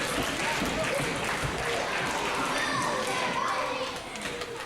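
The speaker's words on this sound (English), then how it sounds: "Hayden has the crowd firmly on her side, you can hear that." Crowd noise at a women's championship wrestling show, a dense continuous roar of cheering and shouting with higher-pitched voices mixed in, loud and sustained before easing slightly at the end.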